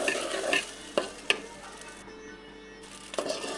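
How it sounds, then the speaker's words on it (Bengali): Rice being stir-fried in a pan for hilsa pulao, a soft continuous scraping and light sizzle, with a few sharp knocks of the spoon against the pan. "চালটাকে ভালো করে কষিয়ে নিচ্ছি"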